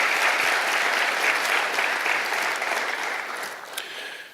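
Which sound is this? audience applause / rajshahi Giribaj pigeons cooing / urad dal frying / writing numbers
audience applause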